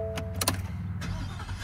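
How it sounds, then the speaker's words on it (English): A 2023 Ford F-150 XL with the Coyote V8 starts up. Brief starter clicks give way to a low, steady engine rumble close by, with no voices. "On start, you hear a little bit of rumble from that V8"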